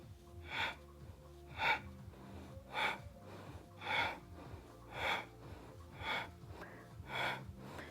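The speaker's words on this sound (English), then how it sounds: "Breathe into your belly. And exhale, we come up." Rhythmic breathing during an abdominal workout, a forceful exhale repeated about every second, each breath rising and falling regularly over faint background music.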